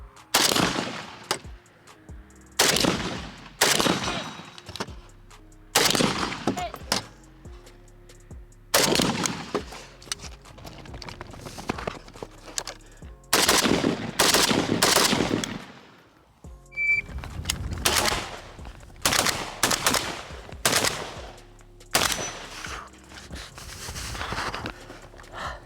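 Krebs M23 AK rifle firing in bursts and strings of shots, loud and close, with short pauses between volleys over about half a minute.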